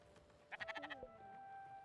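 Video game sheep being sheared bleats in a quick wavering run of about six pulses, quiet and up close over a soft game background tone.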